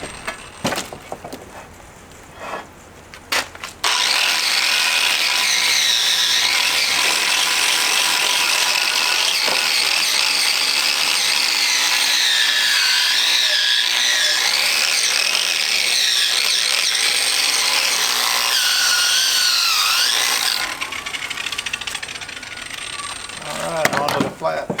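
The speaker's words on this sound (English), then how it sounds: "Bearings on my grinder are about to go." A bench grinder with worn bearings runs at a steady, loud whine with a wavering, rough high tone, used in an antique book press restoration; it starts after a few seconds, runs evenly, then spins down at the end.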